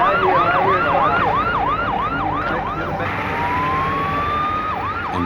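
An ambulance siren wails in a fast, repeating up-and-down pattern, then shifts into a long, slowly rising tone before resuming, loud and close over steady road rumble.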